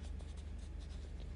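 A Derwent Inktense block drawn directly across wet paper, making a soft, continuous scratchy rasp with quick repeated strokes, faint and close, with no voices.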